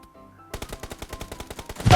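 Rapid automatic gunfire from a video game rings out in a fast, evenly spaced burst of about a dozen sharp shots after a brief quiet start, ending in a louder blast.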